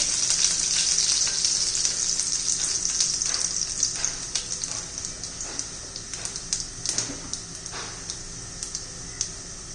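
Two cloves of garlic sizzling in a little oil with crackled cumin, a steady bright crackle with scattered pops, close and continuous, no talking.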